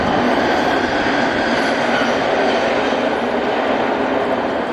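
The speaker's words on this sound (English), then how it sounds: "that's a very small train that just went by." A small service train rolls past outdoors in winter, its steady broadband rumble and rail noise holding loud and close for the whole stretch without letting up, with no voices heard.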